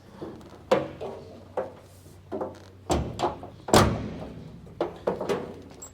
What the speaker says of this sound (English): I'm gonna close this door just in case.